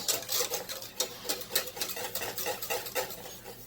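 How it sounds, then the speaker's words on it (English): A whisk scraping and knocking around the edges of a pot of banana pudding custard, a quick regular rhythm of metallic strokes, close and clear with no talking. "You want to make sure you're whisking constantly around the edges"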